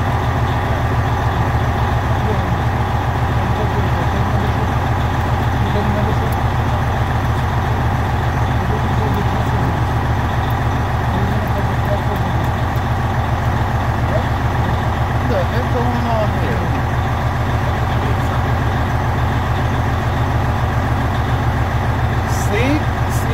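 A truck's diesel engine idles steadily inside the cab during a CDL pre-trip inspection. A constant low rumble continues throughout, with faint, muffled voices mixed in.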